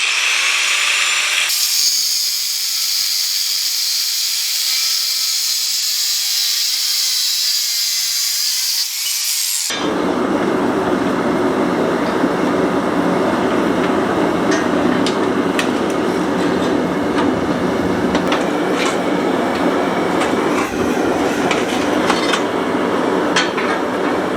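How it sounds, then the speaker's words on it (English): An angle grinder cuts through a steel coil spring, first with a high, sustained whine at speed and then dropping into a harsher, louder grinding rasp as the disc bites the metal, continuous and close. "it's just easier for me to use an angle grinder, and that's what I recommend"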